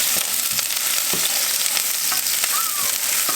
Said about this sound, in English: we're gonna go ahead and get these onions in here, get them started